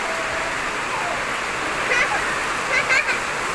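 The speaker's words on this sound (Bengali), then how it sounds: "অনেক জোরে বৃষ্টি আসছে" Heavy rain pouring down during a storm in Gazipur, a loud constant rushing hiss of water with splashes, while someone talks over it at times.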